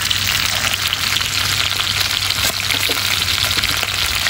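Pancetta frying in a pan gives a loud, close, continuous sizzle and crackle, dense and steady with small spattering pops throughout and no talking.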